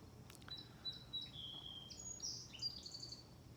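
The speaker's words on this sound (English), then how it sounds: "So as the birds communicate with one another in the backdrop," Birds chirping and tweeting outdoors in the background, a few faint high calls scattered over a steady low hum, fairly distant and soft.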